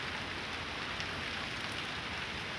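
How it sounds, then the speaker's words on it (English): Steady broadband rain in a garden, with water dripping and running off the side of a house, heard as a continuous wash of close, fairly loud drops with no talking. "The bigger drips are just coming off the side of my house."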